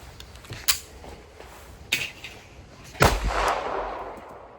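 A firearm fires three sharp shots spaced about a second apart outdoors, the last followed by a longer rumbling tail as brass is ejected.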